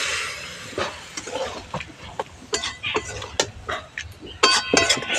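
A spoon stirs a vegetarian curry of drumsticks, potatoes and mustard-poppy paste in a pan after a splash of water is added, producing irregular scraping strokes and metallic clinks under a soft bubbling sizzle.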